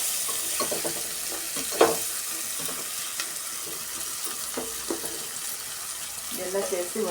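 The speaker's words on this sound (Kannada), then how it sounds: "ಸ್ವಲ್ಪ ಉಪ್ಪು ಸೇರಿಸ್ಕೊಳ್ಳೋದ್ರಿಂದ ಸ್ವಲ್ಪ ಚೆನ್ನಾಗಿ ಸ್ಮೂತಾಗಿ ಫ್ರೈ ಆಗುತ್ತೆ" Vegetables with salt frying in a pan for hotel-style potato sagu, a steady close sizzle and hiss with occasional stirring clinks and scrapes, under faint talk.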